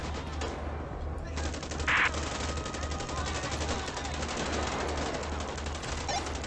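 Gunfire in GTA 5 sounds as a dense, continuous stream of rapid machine-gun bursts that stays loud and sustained throughout, with a sharp louder crack near the start.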